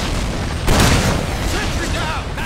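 Sentry gun in Team Fortress 2 opens fire in a dense, loud burst of rapid shots that kicks in partway through and keeps hammering under a busy game mix.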